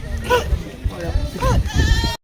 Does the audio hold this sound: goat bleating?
yes